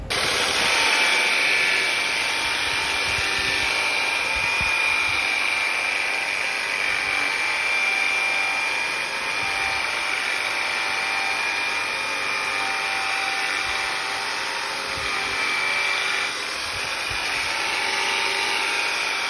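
A power sander grinds steadily against an aluminum wheel during restoration, a dense, constant high whir with a thin sustained whine running without pause for nearly twenty seconds, close and loud.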